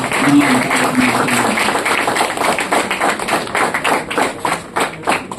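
An audience claps loudly for Swami Vivekananda at a National Youth Day gathering: dense, steady clapping close by that keeps going for several seconds.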